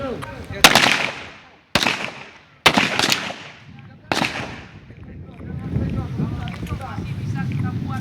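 Gunfire at a police shooting practice for Aceh traffic police highway patrol officers: four loud, sharp shots spaced about a second apart, then windy outdoor background with faint voices.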